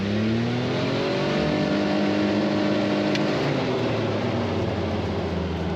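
Engine of a CF Moto U10 Pro side-by-side driving in normal mode, a steady loud drone of motor and drivetrain held throughout with no talk.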